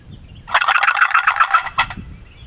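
A World Champion turkey box call shaken to make a loud, close run of rapid gobbling notes lasting about a second and a half, with no talk.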